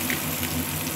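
Onions sauteing in a hot pan of oil, a brief steady close-up sizzle with a soft crackling texture throughout and no talking.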